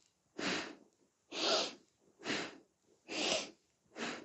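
Rhythmic breathing from a Kundalini yoga exercise, with five forceful, evenly spaced breaths, each about half a second long and separated by short pauses, close and fairly loud with no talking.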